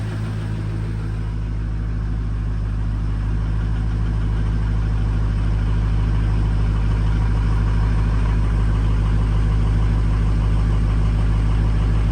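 A Ford 6.0 diesel truck engine idles loud and close, a steady low rumble with a constant mechanical hum that holds unchanged from start to finish, with no talking over it.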